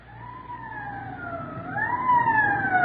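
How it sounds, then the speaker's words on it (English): A wailing police car siren rises and falls steadily, growing louder as it approaches over low traffic rumble. "Code 3, that means red light and siren."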